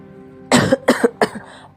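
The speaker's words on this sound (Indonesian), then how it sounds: "saya batuk" Three harsh coughs in quick succession, close and loud, each a short raspy burst separated by brief pauses.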